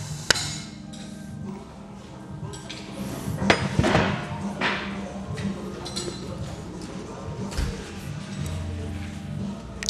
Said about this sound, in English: Give this a little tap of the hammer.